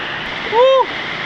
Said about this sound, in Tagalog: Ganda ng falls, mini falls